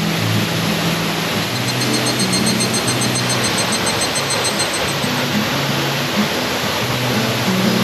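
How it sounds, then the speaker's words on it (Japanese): Hossawa waterfall in Hinohara village, Tokyo, roars as a steady, dense wash of falling water, loud and unbroken throughout, with no voices over it. "ほっさわの滝は東京都で唯一、日本の滝百選に選ばれた滝です。"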